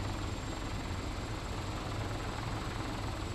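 A helicopter engine takes off in the video game Arma: Cold War Assault, a dense, steady rotor-and-turbine roar that fills the background evenly without letting up, with no talk.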